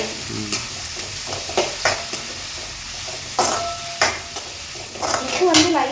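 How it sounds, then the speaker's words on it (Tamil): Tomatoes sautéing in a hot pan for Maggi: a constant frying sizzle broken by repeated close scraping and clattering stirring strokes at an uneven rhythm. "அடுத்தது வந்து தக்காளி பழம் போட்டுறேன். தக்காளி பழத்தை நல்லா வதக்கிட்டு"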